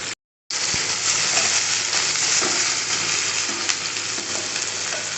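Ginger fries in a pan with softened salted tomato, a loud, steady, close sizzle that starts abruptly after a moment of silence and carries on evenly with faint stirring scrapes.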